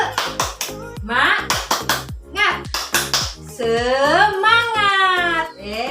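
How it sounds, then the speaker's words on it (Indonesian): Children perform a rhythmic clapping chant, crisp claps in quick patterned bursts alternating with sung, chanted voices, close and lively. "Ayo tepuk semangat."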